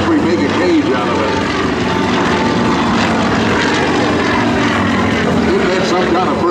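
Propeller aerobatic planes of the Aerostars team flying follow-the-leader with smoke at the 2011 NAS Patuxent River Air Expo, a loud, steady droning engine roar with a slowly shifting pitch, with someone talking over it.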